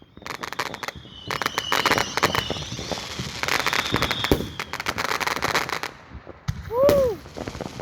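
Fireworks going off at a crowded park show, with rapid crackling bursts and sharp booms packed together for several seconds, then a short pause and a rising whistle near the end. Voices sit faintly underneath.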